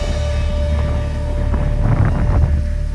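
Strong wind buffeting the microphone with a constant loud roar, gusting harder toward the end, outdoors beside a jeepney camper van in the Philippines.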